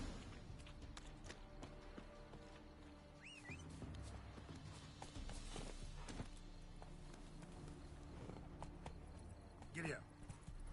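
Horse hooves clip-clopping at a steady ride in the Witcher 3 video game, soft and rhythmic beneath game ambience with a faint whinny near the end.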